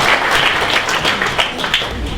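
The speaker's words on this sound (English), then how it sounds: "Well done, round of applause." Audience applause at a junior hackathon show-and-tell in Manchester, a loud, continuous patter of many hands clapping close by with a few sharper individual claps standing out.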